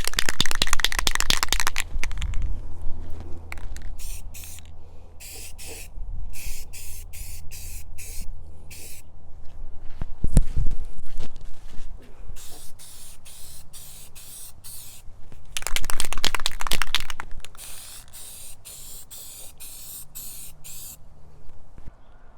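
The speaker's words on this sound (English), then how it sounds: "Let's put the first coat of color on." Bursts of spray paint coat a Columbian bench vise in color: several loud hissing passes at the start, middle and later, separated by quieter gaps with faint clicks and shuffling.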